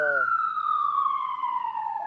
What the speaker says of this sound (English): it's already an ambulance